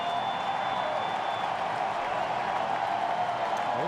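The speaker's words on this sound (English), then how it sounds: "Nice round of applause for Jock Jones" Distant crowd applause at a Twins home exhibition baseball game against the Cardinals at Target Field, a steady broad wash of clapping and murmur that holds evenly throughout without distinct claps.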